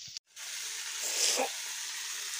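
Potato and pointed gourd pieces fry in a pan with a steady, close broadband sizzle that briefly cuts out near the start, then swells slightly before settling back to an even hiss.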